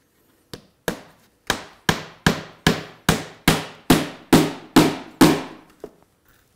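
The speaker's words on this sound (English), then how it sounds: "then I'm going to switch over to nailing" Hammer blows drive nails into the wooden garboard planking of a dory under construction, about a dozen sharp, loud strikes in a steady, evenly spaced rhythm, each ringing briefly before the next.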